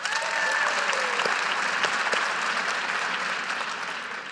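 Keynote audience in Edmonton, Canada, clapping: steady, dense applause from a large crowd that holds at a strong level and fades slightly toward the end.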